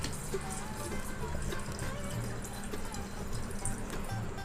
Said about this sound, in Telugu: ఇప్పుడు మటన్ ఉడకడానికి తగ్గట్టు నీళ్ళు పోసుకుందాం.